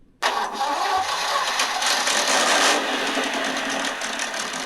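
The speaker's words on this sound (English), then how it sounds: "this engine sound I've chosen is the big heavy V8 with a cam in it sounds like" A simulated big, heavy cammed V8 from a Meus Racing sound controller in a TRX-4M Defender crawler starts abruptly and settles into a loud, steady, lopey idle, with no other sounds.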